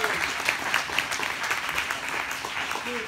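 A crowd at a fair maps party gives Spenser Black a round of applause, brisk clapping with faint voices mixed in, steady and fairly close throughout.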